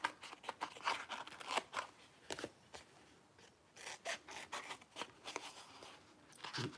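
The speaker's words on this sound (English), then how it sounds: "I'm going to cut this." Scissors snip through paper for scrapbooking, a quiet irregular series of short crisp cuts and rustles up close with no voices.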